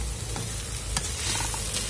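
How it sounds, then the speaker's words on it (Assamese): A pointed gourd (parwal) stir-fry sizzles steadily in a pan while being stirred, with a scraping stroke and crackling bursts over two seconds at close range and no speech. "আৰু আমাৰ পচলা ভাজিকণ লৰাই দিম"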